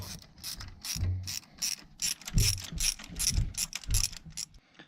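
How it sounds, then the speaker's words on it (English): A socket wrench with an extension loosens a car spark plug during a plug replacement, giving a close series of sharp ratcheting clicks in irregular bursts, with occasional heavier clunks as the socket turns. "give it a push onto the spark plug, and we'll start to remove that spark plug"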